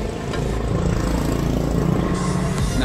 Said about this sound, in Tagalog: Yung ingay ng tricycle.